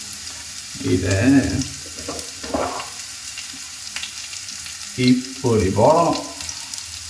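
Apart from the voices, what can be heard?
onions frying with salt in a pan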